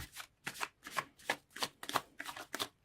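Tarot cards being shuffled by hand: a steady run of about nine soft, crisp riffling bursts in an even rhythm, close and quiet with no voice over them.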